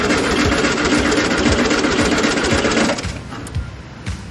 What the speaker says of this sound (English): crank them over and hold it until I say release